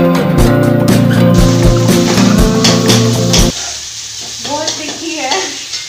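Boiled potatoes being stirred into fried spice masala in a pan, with loud scraping and sizzling for about three and a half seconds, then quieter scattered stirring scrapes.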